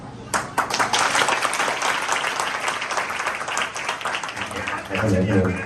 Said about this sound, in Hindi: मजा नहीं आ रहा आज की तालियों का?